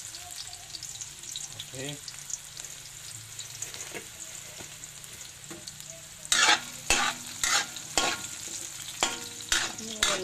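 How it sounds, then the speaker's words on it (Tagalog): Onions frying in a pan for a ginataan of banana blossom and papaya, a soft sizzle at first, then loud rhythmic scraping stirs in the second half, close by, with a brief spoken word. "Lagay po natin ang sibuyas."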